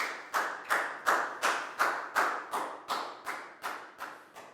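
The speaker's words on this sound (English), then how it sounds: "High five, and a big round of applause for Pak Bung, please, guys." Rhythmic group clapping in a classroom, about a dozen sharp, evenly spaced claps in unison, close and fairly loud, each decaying quickly before the next.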